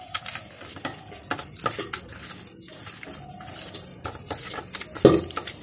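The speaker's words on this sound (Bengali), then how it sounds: "মাছের তেল ভাজার আওয়াজ পাচ্ছ তোমরা?" Fish rubbed with salt and turmeric fries in hot oil in a pan, giving irregular crackling pops and spattering bursts that come fairly close and steady over a low background hiss.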